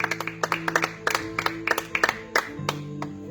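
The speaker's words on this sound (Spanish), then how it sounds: "Dele palmas al Dios de los cielos." A church congregation in Jusepín, Venezuela claps their hands in a quick, uneven rhythm, sharp close claps repeating over a quiet background hum, with some faint singing or voices underneath.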